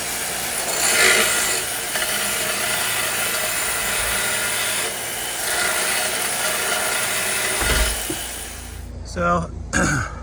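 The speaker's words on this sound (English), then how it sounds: "I'm just in the process of sanding everything here, wire brushing it" Steady broadband abrasive scraping of sanding and wire brushing on aluminum boat trailer parts, continuous and close, with brief pauses and a few clunks near the end.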